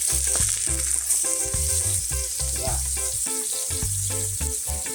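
A salmon steak sizzles in a pan just after being turned, a constant hiss running beneath louder background music.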